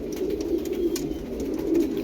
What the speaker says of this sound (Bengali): পায়রা দুটো দেখে বুঝতেই পারছেন কি পায়রা।